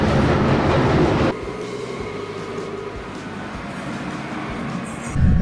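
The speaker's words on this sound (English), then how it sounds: "The trains were much louder than I expected" A London Underground train roars loudly at close range, a heavy rumble that drops to a steadier rolling clatter of wheels on track, with a faint high squeal near the end.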